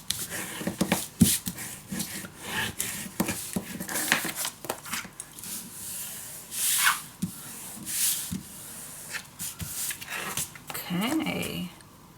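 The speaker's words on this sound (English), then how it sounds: "Sometimes I do like to have to burnish the papers down," Paper being burnished down onto a handmade mini album, a series of close, dry rubbing strokes in uneven rhythm, with short pauses between passes.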